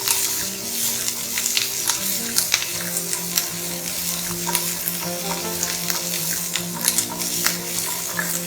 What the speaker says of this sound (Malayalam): ക്യാപ്സിക്കം ഒന്ന് ഈ എണ്ണയിൽ ഫ്രൈ ചെയ്തെടുക്കാം